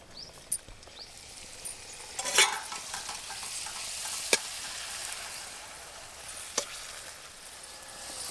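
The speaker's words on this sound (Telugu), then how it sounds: "నూనె అయితే వేడైంది, పూరీలు వేయించుకుందాం." Puris for pani puri fry in hot oil with a soft, steady sizzle, broken by a few sharp crackles and pops. No one speaks.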